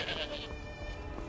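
A goat in the video game Skyrim bleats in a short wavering cry over soft game ambience and background noise.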